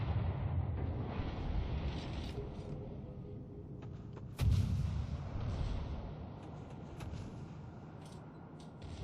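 Naval guns fire high-explosive shells in a World of Warships Operations match, a continuous low rumbling barrage with one heavier boom near the middle, booming steadily throughout without voices.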